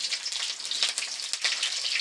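Hot oil sizzles and crackles loudly as chopped chilies fry, with scattered sharp pops over a continuous hiss.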